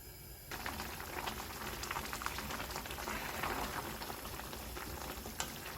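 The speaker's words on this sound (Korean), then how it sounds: "불을 세게 하셔서 푹 끓여주면 돼요." Meatless Korean seaweed soup (miyeokguk) with rice-rinsing water boils hard over high heat, a dense, steady bubbling and rolling hiss that starts abruptly and continues without pause at close range.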